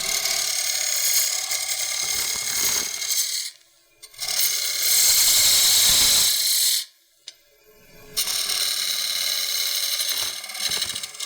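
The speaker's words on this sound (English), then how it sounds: "So I'm going to use the 1/2 inch spindle gouge" A half-inch spindle gouge cuts a wooden tray on a lathe, producing three long, loud, hissing cutting passes with two short pauses between them, close and without talk.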